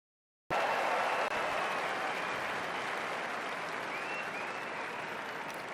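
A crowd at a presidential inauguration parade event bursts into loud, continuous applause that starts abruptly and holds steady for several seconds, tapering only slightly.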